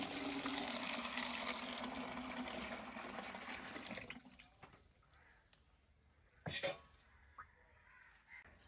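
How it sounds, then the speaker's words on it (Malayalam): Rice-washing water pours steadily through a strainer into a bucket for about four seconds, then stops, leaving quiet background with a crow cawing and a few faint clinks and splashes. "ഈ അരി കഴുകിയ വെള്ളം ഇത് അരിച്ച് ഞാൻ ഈ ബക്കറ്റിലോട്ട് ഒഴിക്കുകയാണ്"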